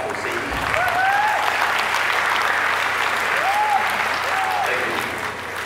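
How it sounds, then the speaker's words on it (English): A crowd at the 77th COMFSM commencement ceremony applauds for a graduate named Sadie: loud, sustained clapping with a few cheers and whoops rising above it, continuing for several seconds. "Can we get a round of applause for Sadie?"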